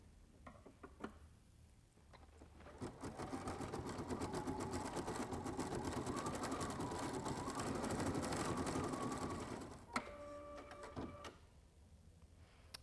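A computerized embroidery machine stitches a witchy cat design onto a fabric treat sack. After a brief pause it runs for a steady stretch of rapid, even needle chatter. Toward the end come a few short mechanical whirs and beeps, with no voices.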